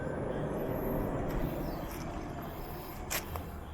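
Steady traffic roar from a nearby highway below a mountain campsite, a dense continuous wash of passing vehicles with a few brief higher whooshes, no clear talk.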